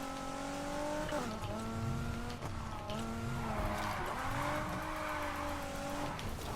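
A car drifting in the Need for Speed Heat racing game, its engine droning steadily while long tire skids and squeals rise and fall throughout, loud and continuous.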